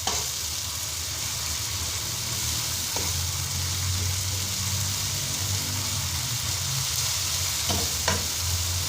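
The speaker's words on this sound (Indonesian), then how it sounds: "kita aduk-aduk sampai matang tapi jangan gosong" Spicy tofu filling made with hot chilies fries in a pan, sizzling steadily and loudly up close, with a few scrapes and knocks of a stirring utensil.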